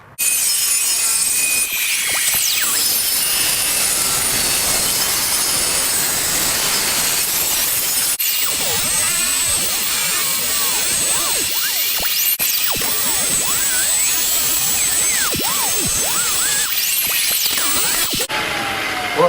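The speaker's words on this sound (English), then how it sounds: "corded grinder." A corded grinder roughs out wood while building a pull-behind camper, a loud continuous abrasive whine and grinding rasp that shifts pitch as the tool bites and eases, with brief drops in pressure.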